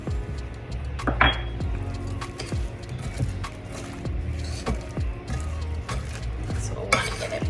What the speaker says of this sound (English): We'll stir this because we are gonna air fry this.